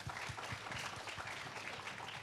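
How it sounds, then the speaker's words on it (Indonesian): Applause for Rian from the audience of a talk-show panel: a dense, continuous wash of many hands clapping, fairly soft and steady throughout, with no voices over it. "kita kasih tepuk tangan dulu untuk Rian"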